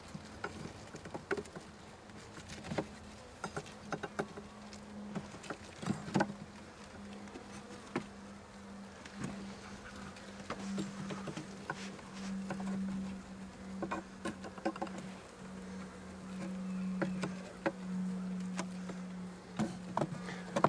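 A swarm of honeybees buzzes steadily in a freshly painted hive body with a new bottom board, the dense hum continuous throughout with scattered light taps and knocks of handling the wooden boxes.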